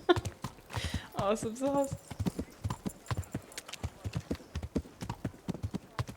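Horse hooves clip-clopping at a steady walk in the medieval game Kingdom Come: Deliverance, a regular sequence of close hoof strikes with a brief whinny near the start and someone speaking over it.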